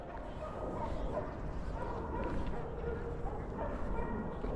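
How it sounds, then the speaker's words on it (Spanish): Many dogs barking and yipping at a distance in an off-leash park, continuous and moderately loud, with some faint background voices mixed in. "allá hay muchos perros"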